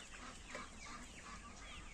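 Young roosters in a Ukrainian poultry yard, with soft overlapping clucks and short calls from several birds against a low steady background.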